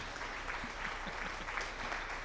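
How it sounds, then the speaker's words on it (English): Steady crowd applause from a livestream sound alert fills the moment, a dense, even patter of many hands clapping, moderately quiet, with no talking. "And thank you, Gamer Paul, for the screamer and the applause."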